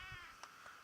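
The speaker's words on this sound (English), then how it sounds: "You're a very good kitten, Alex." A kitten gives a single short, faint meow with a tonal, slightly wavering pitch, heard alone and close.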